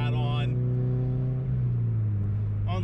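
A Toyota GT86 track car drives at night with a loud, steady engine drone heard from inside the cabin. The pitch dips slightly midway, and a voice speaks over it at the start and end.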